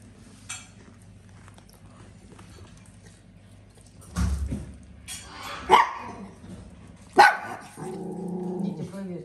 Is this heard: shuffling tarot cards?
no